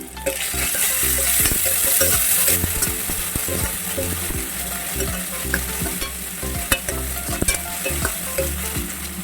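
Chopped tomatoes fry in a pan for chana masala, a loud steady sizzle with frequent scraping stirs and clinks of the utensil throughout, no one talking.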